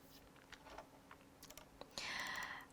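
Typing on a computer keyboard, a quiet scatter of light key clicks heard close and alone, ending in a brief louder burst of sound.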